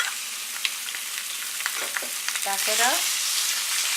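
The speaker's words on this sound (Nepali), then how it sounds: "चिकनलाई केही बेर फ्राई गर्छौँ।" Chicken frying in a hot pan for a chicken noodle soup, with a steady close sizzle and crackle throughout, plus a few clinks and stirring scrapes partway through.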